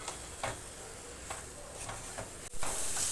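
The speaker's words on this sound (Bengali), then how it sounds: "ভালো করে নেড়েচেড়ে এটা মিশিয়ে নেব।" Ground peanut paste stirred into potato and pointed gourd curry frying in a pan: a steady close sizzle with soft scraping stirs at intervals, alone, no talk.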